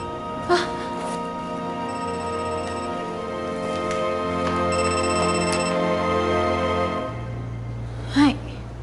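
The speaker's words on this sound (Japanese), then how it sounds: "携帯。" A mobile phone rings indoors with a sustained, quiet electronic melody of layered tones that runs for about seven seconds, then settles into a lower steady tone, with a couple of brief sharp sounds at the start and end.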